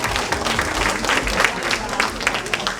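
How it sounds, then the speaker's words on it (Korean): A short burst of applause rises from participants at a citizens' public deliberation forum on household waste and incineration facilities, with brisk overlapping claps for under three seconds. "큰 박수로."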